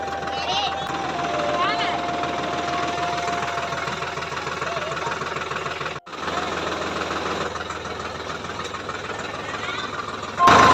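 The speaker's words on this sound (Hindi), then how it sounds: "अब बारी है जो है ट्रैक्टर ला चालू करे के और हमला खेत जाए के।" A diesel tractor engine runs steadily, with a dense knocking rumble close by throughout, a brief dropout midway and people talking over it.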